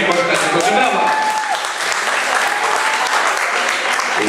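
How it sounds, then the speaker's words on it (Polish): A studio audience at a Polish school quiz show applauds loudly and steadily throughout, with a brief whistle-like tone near the start. "Proszę, brawa!"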